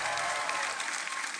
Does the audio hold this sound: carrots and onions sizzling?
no